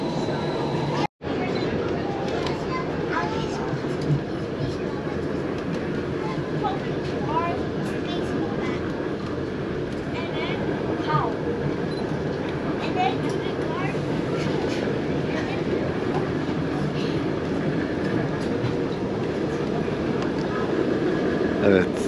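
The Rigi mountain railway train descending the mountain in Switzerland produces a steady, moderate rumble of running gear, sustained and even for the whole stretch, with a brief sharp knock near the start.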